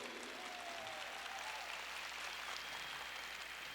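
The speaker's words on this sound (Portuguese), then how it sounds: "vamos dar uma grande salva de palmas para todas as catequistas presentes, todas as catequistas do Brasil" Steady applause from an audience of catechists at a Catholic catechesis talk in Brazil, a continuous wash of clapping at moderate level with no voices over it.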